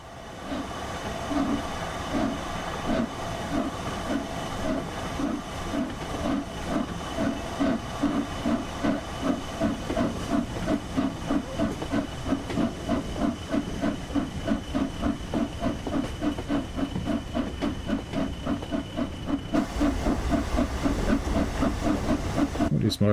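In the Just Trains West Coast Main Line Preston–Carlisle simulator, a steam locomotive's large ejector hisses steadily, with a regular beat of pulses running underneath. The noise stays fairly loud and constant.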